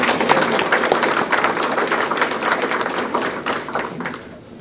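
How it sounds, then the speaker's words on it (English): A room of guests at a spring grant celebration applauds steadily, dense clapping at a lively level that holds for several seconds before tapering off near the end. "Round of applause for Liz."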